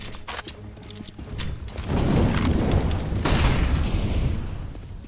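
A flashbang grenade bursts in CS:GO during a competitive match, with a loud booming blast and rumbling noise that swell after a few sharp mechanical clicks and linger for several seconds.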